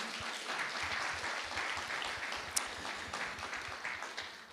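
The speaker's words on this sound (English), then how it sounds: "Give yourselves a hand clap, will you?" Sustained applause and hand clapping from an audience at a Christmas toy drive event fills the room steadily, dense and fairly loud, with no talk over it.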